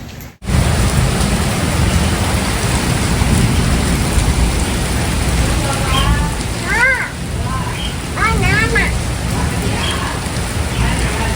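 Heavy rain pours steadily and loudly throughout, a dense hiss of drops on surfaces, with a voice rising briefly in the middle.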